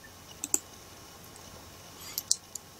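A computer mouse clicks while drafting in AutoCAD, a few sharp, quiet clicks in two quick pairs near the start and end, with faint background hiss in between.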